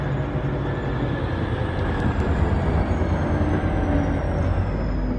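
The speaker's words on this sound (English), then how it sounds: "Runaway train." A train in the factory-building video game Foundry rumbles steadily along its track, a continuous broadband roar with a faint whine and a couple of brief high clicks.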